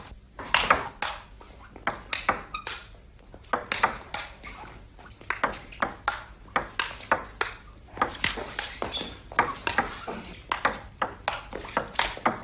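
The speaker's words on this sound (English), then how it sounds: "Or you can witness a thrilling game of ping pong." Ping pong ball knocking back and forth in a table tennis rally, sharp taps in a quick irregular rhythm, some close together, heard alone without talk.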